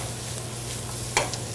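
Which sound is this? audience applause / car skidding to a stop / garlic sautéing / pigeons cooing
garlic sautéing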